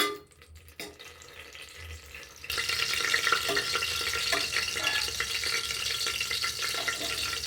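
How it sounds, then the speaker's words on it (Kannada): Green chillies fry in hot oil for a Mandya-style mutton chops masala. After a brief quiet start, a loud steady sizzle kicks in and runs to the end, with light stirring. "ಹಸಿಮೆಣ್ಸಿನ್ಕಾಯಿನ ಎಣ್ಣೆಯಲ್ಲಿ ಚೆನ್ನಾಗಿ ಫ್ರೈ ಮಾಡಿ ರುಬ್ಬಕ್ಕೆ ಅಂತ ಹೇಳಿ ಹಾಕೋತಾ ಇದ್ದೀನಿ"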